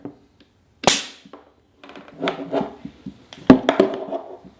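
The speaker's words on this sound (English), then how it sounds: "now we can go ahead and disconnect the hose with a final blast of air" Air bursts from a paintball marker remote line as the hose is disconnected, heard as sharp close pops and clacks followed by short hissy rattles in otherwise quiet surroundings.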